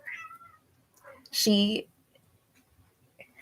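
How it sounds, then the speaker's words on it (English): A pet cat gives a brief, loud meow near the middle, with softer mewing sounds before it and a quiet room around it. "My cat is going crazy."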